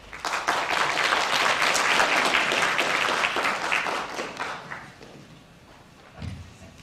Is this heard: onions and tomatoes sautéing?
no